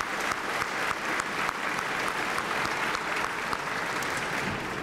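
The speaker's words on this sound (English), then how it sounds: "I invite you to applaud those who taught you and guided you in the years that brought you here." Dense, sustained applause from a large audience at a graduation ceremony, an even roar of many hands clapping with no voices on top.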